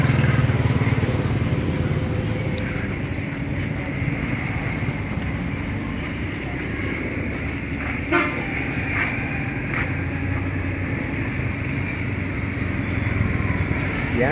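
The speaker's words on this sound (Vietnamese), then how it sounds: "Đây cái máy nổ này nè." A Suzuki GZ150-A motorcycle with electronic fuel injection runs nearby, a steady low engine drone with a brief sharper blip midway and traffic noise around it.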